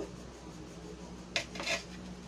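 A knife cuts a mango for a Bengali mango and gobindobhog rice dessert, with two or three short, sharp scraping clicks against a plate or board over a quiet kitchen background.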